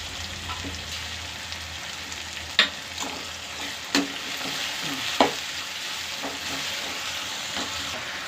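Quiet, steady sizzle of ginger garlic paste frying in a pan, with occasional sharp spatters and stirring sounds throughout.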